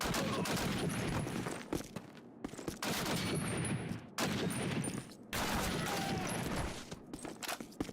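Bursts of automatic gunfire from a Call of Duty World War II mission at an Alpine chateau, loud and dense, broken by brief pauses between volleys.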